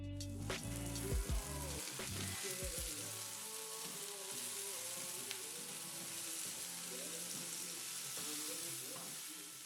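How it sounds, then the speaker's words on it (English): Onions and tomatoes sizzle steadily in olive oil in a pan, with hemp seeds, salt and chili flakes added, a close continuous frying crackle broken by occasional stirring clatter at the start. "pan fried the onions and tomatoes for about 7 minutes"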